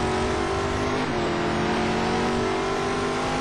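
Race cars in Gran Turismo Sport at the A1 Ring roar continuously at high revs, a loud sustained engine drone with steady harmonics and no pauses.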